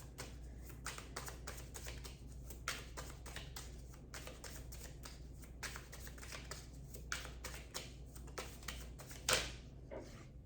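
Tarot cards are shuffled in a rapid run of soft, crisp riffling taps that continue for several seconds, quiet and close, with no talking.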